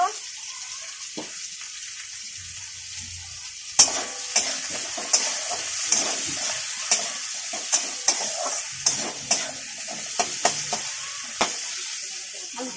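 Spices fry with eggplant and potato in a pan, a steady sizzle broken by repeated sharp scrapes of a spatula stirring, starting after a quieter opening.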